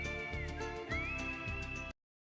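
Whistled melody from a PlayStation 1 video game soundtrack, a clear sustained whistle tone gliding over a backing of rhythmic instruments, playing steadily before cutting off abruptly.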